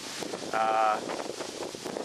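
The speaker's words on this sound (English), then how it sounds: "It's very breezy today." Wind gusts outdoors beside a greenhouse under construction on a breezy day, a steady broad rush with buffeting against the microphone and a brief tonal whine partway through.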